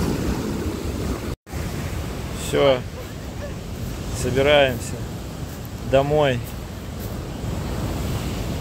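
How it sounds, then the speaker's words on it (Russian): Stormy sea waves roll onto the shore with a steady, loud roar of surf and gusting wind noise across the microphone, while people talk nearby over the crashing water. "Ой, ну волны страшные"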